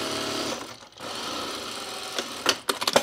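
Sewing machine stitching the underarm seam of a bomber jacket sleeve, a continuous whirring run with a brief pause near one second, then a few sharp clicks and knocks toward the end.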